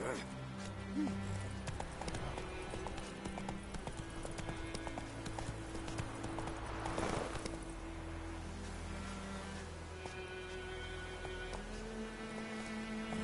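Horse hooves gallop in the video game The Witcher 3, a steady clip-clop rhythm running through the scene under game music and voices.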